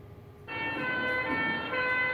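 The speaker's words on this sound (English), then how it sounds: "Listen to the pitch of this fire engine as it approaches you, the bystander, and then as it recedes off into the distance behind your shoulder" A fire engine siren starts abruptly and holds a loud, steady wailing tone, the pitch shifting slightly as the truck passes by.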